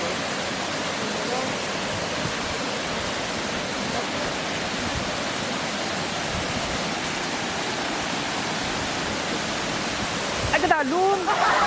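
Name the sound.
Lag-ason waterfall, water falling widely like a curtain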